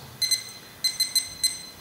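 A kitchen timer being set while brewing a beer kit, giving a series of short, high electronic beeps in irregular quick bursts, close and clear.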